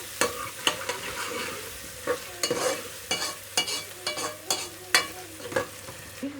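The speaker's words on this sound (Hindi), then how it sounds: "अदरक लहसुन का पेस्ट को भी हम भूनेंगे।" Ginger garlic paste frying in a pan for a chicken karela masala, with a steady sizzle under repeated sharp scrapes and clinks of a spoon stirring, close and moderately loud with no voices.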